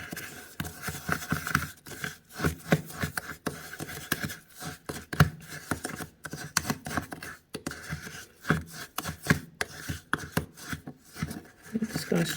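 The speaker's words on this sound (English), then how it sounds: "Let me get something to stir. I'm gonna use the back of a butter knife." The back of a butter knife stirs a homemade olive oil scalp scrub in a container, giving soft irregular scraping and tapping strokes close up, with no talking.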